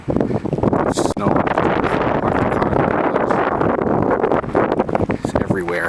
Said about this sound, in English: You can hear the wind blowing.